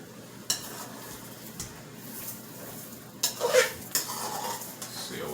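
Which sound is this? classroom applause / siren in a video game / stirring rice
stirring rice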